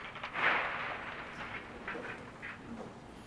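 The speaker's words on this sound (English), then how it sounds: "That's the sound of the plane coming apart." A distant, rumbling wash of roaring noise with scattered crackling and creaking bursts as an airplane breaks apart in flight at high speed, muffled and chaotic.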